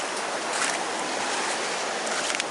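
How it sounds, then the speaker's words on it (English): A semi-trash pump pushes muddy water into a makeshift wetland system on a floodplain, giving a steady, loud broadband rush and churn that holds constant with no talk. "I got a semi-trash pump, and we're just pumping this muddy water into the system."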